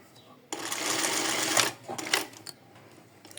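A sewing machine runs a zigzag stitch over a tulle seam on a bra top, one steady burst of about a second with light clicks and handling noises trailing after.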